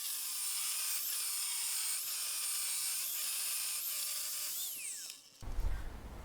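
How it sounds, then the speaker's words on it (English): A power saw set to a 12-degree bevel cutting off the edge of a board for exterior window trim, a steady loud whine that drops in pitch as the cut ends and then winds down. "set the saw to a 12-degree bevel, and I'm just going to cut off the edge of this so that it's all got an angle on it"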